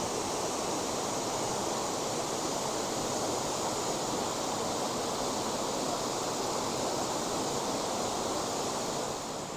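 Bridal Veil waterfall in the Columbia River Gorge, Oregon, heard up close as a loud, steady, unbroken rush of falling water with no pauses or voices.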